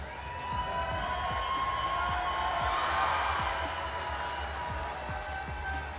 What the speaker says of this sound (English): I want to hear a cheer.